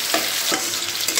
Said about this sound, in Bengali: পেঁয়াজটা দিয়ে একটু নাড়াচাড়া করে ভালো করে ভাজা করে নিচ্ছি পেঁয়াজটাকে।